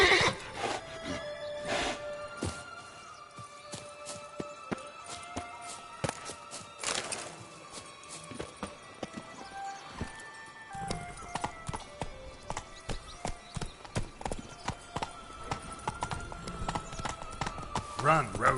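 Geralt's horse Roach from The Witcher 3 gallops with rapid, rhythmic clip-clop hoofbeats. Music and occasional voices play over the hoofbeats.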